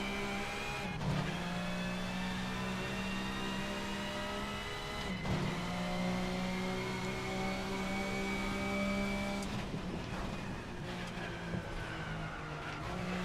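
A race car engine in the Assetto Corsa racing game holds a steady, loud drone near 7,000 RPM, with sharp pitch drops at a few gear shifts before it climbs again. Faint tire scrubbing sits underneath and no one speaks.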